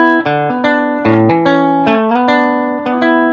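An electric guitar plays the opening riff of a song, drenched in reverb, a loud, steady, repeating single-note pattern ringing out with no voices.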